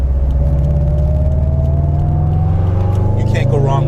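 A 2013 Subaru STI with a loud Invidia N1 exhaust rumbles deeply as its engine pitch climbs steadily in a drawn-out rev, with a throaty burble ending in a slight crackle near the end.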